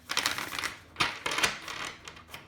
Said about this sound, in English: I'm going to give them a shuffle now